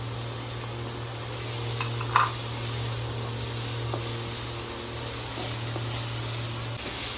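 Tomatoes fry in a pan for a homemade prawn fry, giving a steady close sizzle with a few light clinks of stirring and a constant low hum beneath, no voices.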